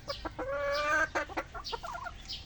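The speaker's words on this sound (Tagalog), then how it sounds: "Napakagandang manok ito" A chicken clucks close by in short bursts, then gives a longer drawn-out cackle, followed by more quick clucks, with a faint low hum underneath.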